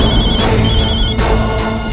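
A telephone rings loudly in a mega-serial drama scene, a repeating electronic tone with short pulses over a busy musical backdrop and no voices.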